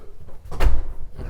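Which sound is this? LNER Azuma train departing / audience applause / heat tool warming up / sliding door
sliding door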